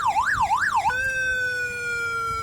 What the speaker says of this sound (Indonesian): alarm polisi pengejaran.